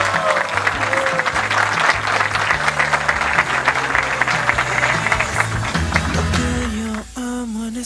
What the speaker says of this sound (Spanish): Le van a dar un gran aplauso